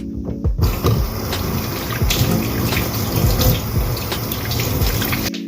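Tap water runs steadily into a sink during hand washing, a continuous splashing stream with light handling noise and no talk.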